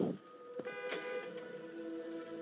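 A vehicle horn honks in the co-op video game It Takes Two, a single sustained toot heard faintly, lasting over a second before tapering, with low background game noise.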